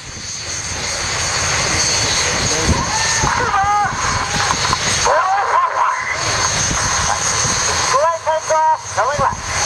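Red Arrows jets fly over an airshow crowd at Gilze-Rijen, a loud continuous roar under an announcer's voice, with speech running over most of the engine noise.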